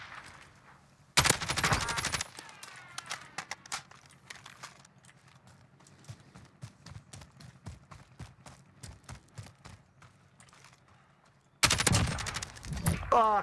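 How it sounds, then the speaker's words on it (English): Gunfire in the video game Warzone, two loud bursts framing a long stretch of rapid distant shots crackling in quick irregular rhythm. "He's being shot from somewhere else."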